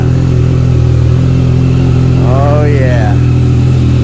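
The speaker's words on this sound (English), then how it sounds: "let's start this up so we can hear the M4 exhaust" A 2017 Yamaha FZ-09 triple-cylinder motorcycle with an M4 exhaust runs with a loud, steady close-up engine drone, and a man briefly exclaims over it.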